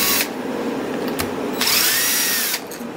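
A power driver whirs in short close bursts while unscrewing screws on the carburetor of a Homelite Super 2 chainsaw, with a long loud spin in the middle and no talking.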